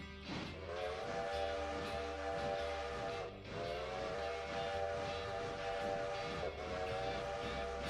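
A steam train departs in the video game Railroader, its loud whistle blowing in long repeated blasts over the chuffing and rumble of the locomotive.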